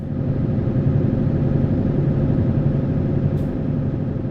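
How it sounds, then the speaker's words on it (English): Steady mid-low drone of a truck's 770 engine running in a driving video game, a continuous even rumble with no talk over it. "This is the 770 engine."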